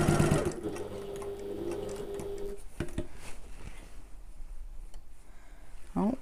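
A domestic sewing machine stitches a fabric backpack in a short, close run for about two and a half seconds, then stops for quiet handling before a brief final stitch.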